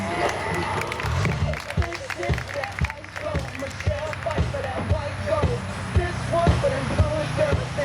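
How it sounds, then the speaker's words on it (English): Applause and scattered cheers from a ski club show audience at an outdoor water-ski performance, a loose run of claps and crowd noise with a voice talking over it. "Let's give him a round of applause."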